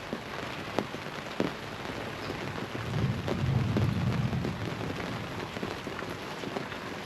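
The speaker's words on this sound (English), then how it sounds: "no forecast of rain, and it just hasn't stopped since we've woken up" Heavy rain pours without a break onto surfaces, a dense close-up hiss broken by scattered louder drops and a low rumbling swell near the middle.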